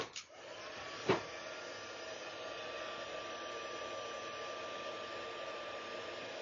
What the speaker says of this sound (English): I need to get my heat gun.